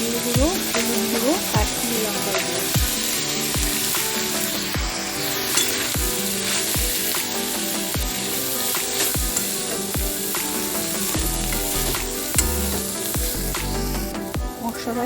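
Ground cumin, coriander, turmeric and Kashmiri chilli powder fry loudly in a pan for a Bengali fig curry, a steady close sizzle punctuated by regular clinks of a stirring spoon.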